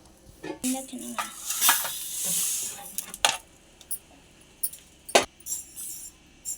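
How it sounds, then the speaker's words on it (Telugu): Dried grains dry-roast in a pan, giving off sharp, scattered crackles and pops along with scraping stir strokes, loud and close, in uneven bursts. "ఆరబెట్టుకున్న వాటిని ఇట్లా దోరగైతే వేయించుకుంటున్నాను చూడండి ఇవైతే ఇలా చిట్టుపట్లు ఆడతాయి"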